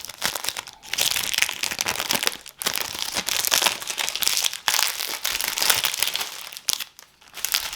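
Cellophane wrapping on a Xerjoff perfume box crinkling and crackling up close, in bursts of crisp rustling separated by brief pauses, with no voices.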